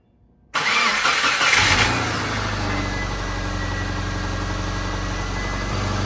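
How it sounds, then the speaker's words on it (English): A Subaru engine cranks briefly on a new starter and catches, then settles into a steady, close idle that rumbles on. "Let's try out the new starter and see how it works."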